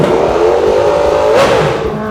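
A 2023 Kawasaki H2 Carbon supercharged motorcycle, its engine held at a loud, steady rev that rises slightly near the end, close up.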